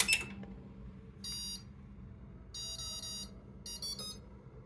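A brushless motor ESC beeping as it powers on while being set up for programming with an Arduino: a sharp click, then three short high electronic tone bursts at spaced intervals, the last one a quick double, with no talking.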